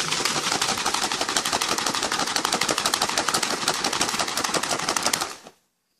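Go Palatinose gainer powder and about 200 ml of water are shaken hard in a shaker, giving a loud, fast, continuous rattling slosh that runs steadily for over five seconds and then stops abruptly.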